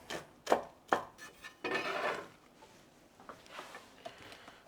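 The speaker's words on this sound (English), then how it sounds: "just cut it nice and fine. And I'll do that to all these leaves" A knife chops cabbage-type leaves on a cutting board for coleslaw, giving several sharp, close thuds followed by a longer burst of rapid cutting, then lighter scattered taps.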